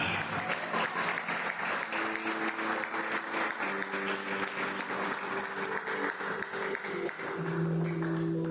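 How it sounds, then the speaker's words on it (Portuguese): A church congregation applauds steadily at a Holy Communion service, sustained clapping from many hands filling the room without pause. "E eu gostaria que você aplaudisse a Ele"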